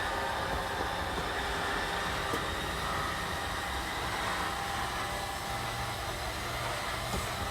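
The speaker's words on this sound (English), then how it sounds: "Once you get that gear grinding noise, you know you're fully extended." The slide-out motor on a 2022 Puma 25BHFQ RV, a steady broadband mechanical whir and grind running continuously and fairly loud, with no talking.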